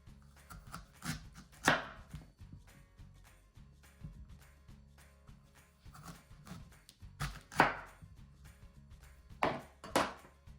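A knife halves large quinces on a kitchen board: a few sparse, dull chopping thunks spread apart, one louder cut, then a quick pair near the end, with quiet room noise between.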